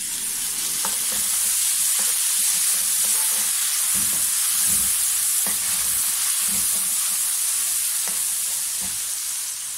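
Ginger garlic paste and green chillies fry in hot oil in a pan, a loud, steady sizzle with occasional stirring scrapes across the whole stretch, no talk.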